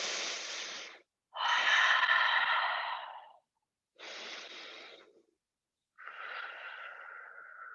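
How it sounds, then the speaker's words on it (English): Slow, audible breaths during a gentle yoga cobra pose, four long airy inhales and exhales separated by short silences, close and soft, with no speech. "Breathe."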